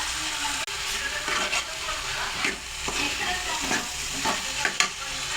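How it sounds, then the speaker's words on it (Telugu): Tomatoes frying in a hot pan give a steady close sizzle, broken by repeated scrapes and stirring taps from a spoon and an occasional sharp clink. "టమాటాలు వేసుకున్నాం ఫ్రెండ్స్."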